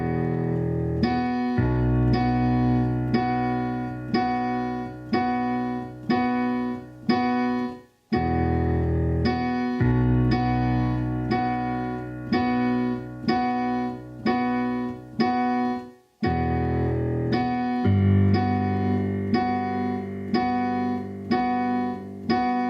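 Solo piano plays a pop song as steady repeated chords over a low bass line, clear and close, with two brief pauses where the sound drops out before the pattern resumes.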